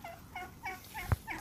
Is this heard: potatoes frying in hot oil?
no